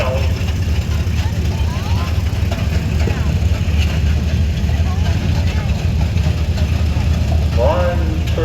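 A Ford 8M tractor engine idles steadily at an outdoor antique Ford and Fordson tractor show in Hastings, Minnesota, a continuous low rumble under constant crowd and background noise.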